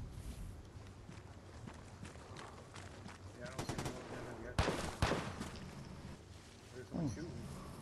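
Gunfire in the multiplayer shooter Vigor, a few sharp shots and short bursts, loudest around the middle, heard amid footsteps and ambient game noise while players talk.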